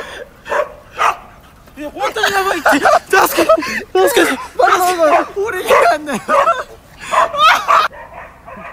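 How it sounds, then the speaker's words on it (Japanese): A dog at a hotel barks, yips and whimpers in repeated close bursts while attacking a person, mixed with panicked, laughing voices talking throughout. "ホテルで友達が犬に襲われた。"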